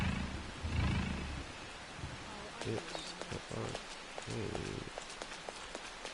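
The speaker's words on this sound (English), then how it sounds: "It's raining really hard." Heavy rain pours in the video game Persona 5 Royal, a steady dense hiss of drops hitting surfaces with faint patters, under a person talking.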